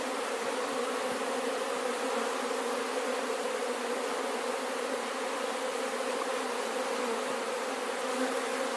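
Honey bees drone in a dense, steady buzz around a hive super set aside, a close continuous swarm hum with no pauses.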